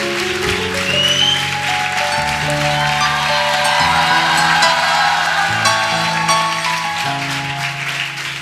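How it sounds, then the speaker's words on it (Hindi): A church congregation applauds during a Sunday service, a steady wash of clapping running under sustained keyboard music with shifting held chords throughout. "आपकी तालियों की आवाज़ कम है"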